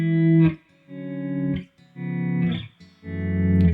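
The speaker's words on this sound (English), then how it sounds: "Like it's a reverse effect" Electric guitar notes swell in gradually with no attack through a Chase Bliss Audio Gravitas pedal, each chord fading up and cutting off, several in a row with a reversed-sounding effect.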